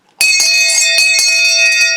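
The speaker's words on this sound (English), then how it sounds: "you simply ring the bell with the intent of breaking up any astral beings in the area" A bell rung once for a banishing rite, a bright sharp strike followed by a clear sustained ringing tone that carries loud and close, with faint repeated taps inside the ring and no voices.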